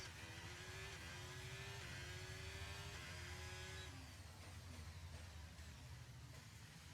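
An F1 car's engine in the game F1 23 revs through rising gear pulls, winding up in pitch several times before easing off. The sound is faint and distant, with no talking.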